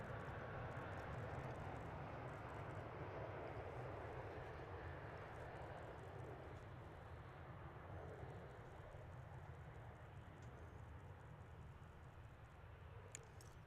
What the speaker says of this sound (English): There's Dreamliner number 1 from Chicago